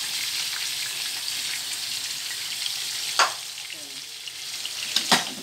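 Chicken drumsticks coated in masala fry and brown in a pan, a steady bright sizzle throughout with two short scraping stirs of a spatula near the end.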